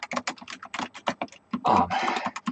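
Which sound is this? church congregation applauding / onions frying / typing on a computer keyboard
typing on a computer keyboard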